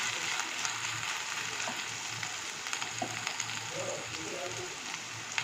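Chopped green chillies and ginger fry with spices in a pan, giving a faint, crackly sizzle with scattered pops and light stirring scrapes throughout.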